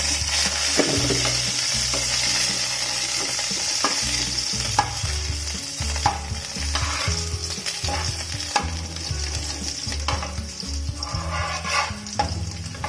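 Chopped onion and two dried red chillies fry with mustard seeds in hot oil for papaya thoran. A constant, loud sizzle runs throughout, broken by irregular knocks and scrapes of stirring.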